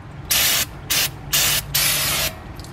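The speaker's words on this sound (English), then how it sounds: "it's good to get brake cleaner and clean around the rotors" Brake cleaner sprays around the rear brake rotors of a 2011-2013 Buick Regal after a pad replacement, four loud, close hissing bursts of roughly a third to half a second each with short gaps between.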